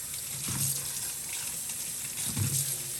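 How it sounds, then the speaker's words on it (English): Lettuce is washed under a running kitchen tap, with a steady hiss of water and a few louder splashes as the leaves move under the stream. "That's how I wash my lettuce."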